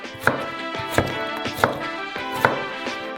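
A knife chops new potatoes into French fries on a board, giving four or five sharp, close knocks at an uneven pace, with soft handling sounds between the cuts.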